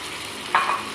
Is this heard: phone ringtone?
no